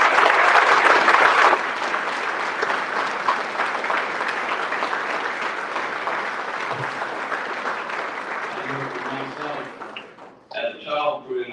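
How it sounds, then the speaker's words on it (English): Sustained audience applause at a sports awards ceremony, loud and dense at first, then settling into steady clapping that fades out near the end as a speaker's voice returns. "If you have a round of applause."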